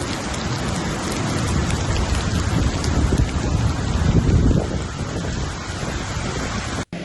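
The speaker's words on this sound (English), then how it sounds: "Barcelona's airport flooded as heavy rain persists in Spain." Heavy rain pours down during flooding in Barcelona, a loud, dense, continuous hiss and patter close by, with rumbling low gusts throughout and an abrupt cut near the end.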